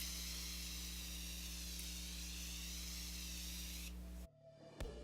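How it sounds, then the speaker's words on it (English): Morphe Continuous Setting Spray misted onto a face: a steady, close hiss of fine spray lasting about four seconds, then stopping abruptly, followed by a faint click. "I'm going to set my face with a little bit of Morphe Continuous Setting Spray."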